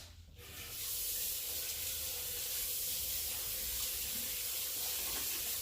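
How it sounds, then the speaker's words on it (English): Vegetables being rinsed under a kitchen faucet: water turns on and runs in a steady, close, full hiss that continues without a break, with no talking. "Let's give this a quick rinse."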